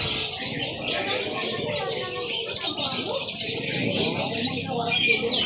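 Many birds chirp and coo together in a busy, continuous chorus at a bird market, with pigeon-like cooing under the higher tweets and background chatter.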